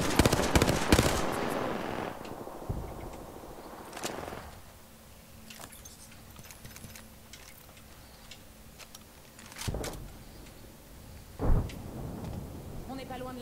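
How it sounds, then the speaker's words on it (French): Gunfire in the video game Apex Legends: a quick rattling volley at the start, then scattered single shots that are fainter and farther off, under occasional talk. "On me tire dessus!"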